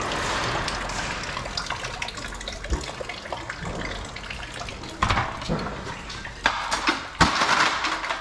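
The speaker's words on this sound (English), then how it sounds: "We're just gonna have to live with this water peeing for a little bit." Water trickles and splashes steadily, with a few louder gushes and drips toward the end.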